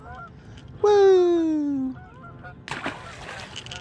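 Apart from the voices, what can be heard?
geese honking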